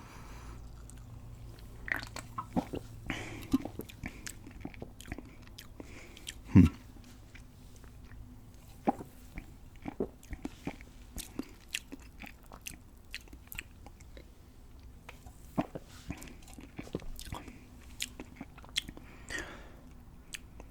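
Gum chewing and biting close to the mic during an ASMR drink review, a steady run of soft wet crunches and smacks with one sharper snap partway through, no talk.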